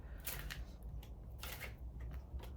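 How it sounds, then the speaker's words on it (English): Tarot cards being shuffled close by, several quick papery riffles and flicks in short bursts over a quiet background, with no talk. "I'm gonna pull some cards here."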